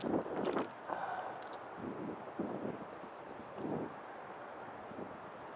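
Wind blows outdoors during a fishing outing, buffeting the microphone with a steady low rumble that swells in a few gusts, with faint scattered ticks and no speech.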